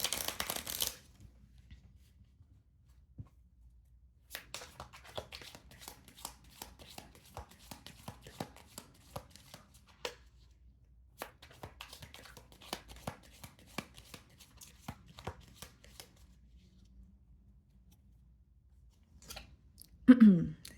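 Tarot cards being shuffled by hand, a soft riffling and rustling that runs in bursts with brief pauses, close and fairly quiet, with a few louder handling knocks near the start and end.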